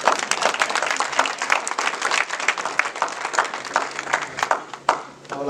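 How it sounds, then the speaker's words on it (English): Audience applause for Orlando Peace, NAACP vice president, at an MLK Day event: a room of people clapping with individual sharp claps audible, fading toward the end. "Clap for Orlando."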